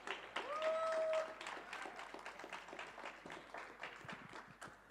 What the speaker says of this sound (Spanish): Un fuerte aplauso, che.